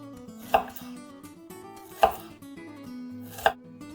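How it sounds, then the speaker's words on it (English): A knife slices through garlic cloves on a cutting board in a kitchen, three sharp, isolated cuts at steady intervals over a faint room tone, with no talking. "And then you end up with some lovely slices of garlic, just like this."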